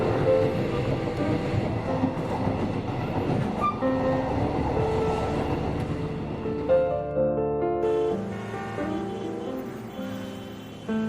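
A train runs along rails on a snowy morning on the way into a city, with a steady loud rumble, clattering wheels and tonal hums, the pitch shifting as it moves.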